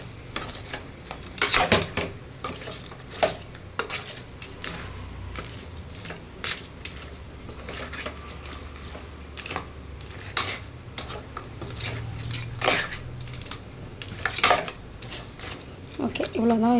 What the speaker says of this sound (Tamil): நல்லா எல்லா நண்டுக்கும் மசால் போடுற மாதிரி நல்லா கிண்டி விட்டுக்கணும்.